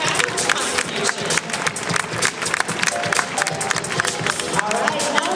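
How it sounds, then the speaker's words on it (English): Applause from the audience at the 2013 Hearts for Fashion charity fashion show: dense, steady clapping from a large crowd, sustained and fairly loud for several seconds, with indistinct voices mixed in. "How about a round of applause from everyone for St. Catherine's contribution?"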